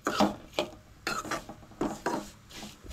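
Thin vermicelli is roasted in a pan for kheer, stirred with four or five rhythmic scraping, rasping strokes against the pan, close and distinct, with quiet gaps between them.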